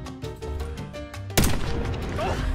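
Gunfire in Call of Duty Black Ops 6: a rapid burst of shots, then one loud close crack followed by a rumbling echo and tail.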